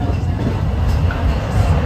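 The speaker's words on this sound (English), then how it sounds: "Please remain fully seated until the train comes to a complete stop" A Magic Kingdom railroad steam train pulls into Frontierland Station with a steady, loud, low rumble of wheels and carriages. The sound is close and continuous, with a voice faintly audible over it.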